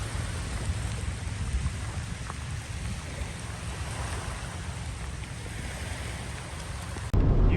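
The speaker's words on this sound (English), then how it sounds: "it is raining hard" Steady, dense heavy rain hiss along the Magruder Corridor in the mountains, with a low rumbling undertone, constant and fairly loud throughout, ending in a sudden louder burst of low noise.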